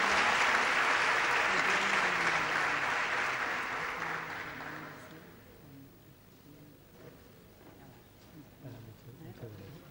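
An audience at a university lecture applauds the speaker loudly and steadily for about four seconds. The clapping then fades out and a voice begins talking.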